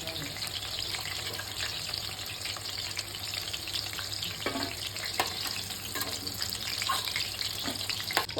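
Bone-in chicken 65 pieces deep fry in a pan of hot oil, a dense, continuous bubbling hiss with small crackles and light stirring throughout, close and fairly even.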